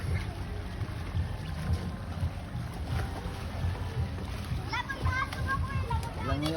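Children splashing while bathing and jumping into a river, with water sloshing and slapping under lively kids' voices and shouting, continuous and close, a burst of high excited calls near the end.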